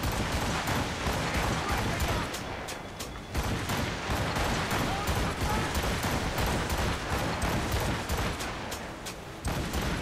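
Rapid volleys of Puckle gun fire in a naval battle in Assassin's Creed Rogue, dense repeated bursts over constant loud sea and battle noise, with a few brief pauses between salvos.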